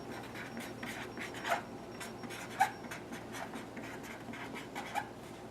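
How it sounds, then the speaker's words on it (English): Quiet scratching of a marker writing on a storage label for a bag of pinto beans, short strokes with a few sharper squeaks, close and soft, with no talking. "So I'm going to write Pinto Beans."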